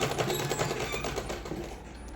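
A sewing machine runs a continuous, even stitching whir through fabric for a small foam mattress for a Laddu Gopal bed, close and uninterrupted for a couple of seconds.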